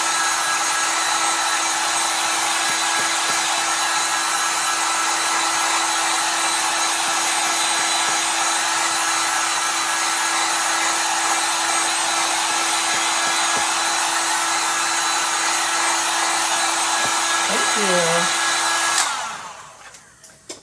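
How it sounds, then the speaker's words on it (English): Handheld hair dryer blowing on a chalk paint transfer, a loud steady whooshing hum held continuously for about nineteen seconds before it clicks off and winds down at the end. "so let's get our handy dandy dryer here"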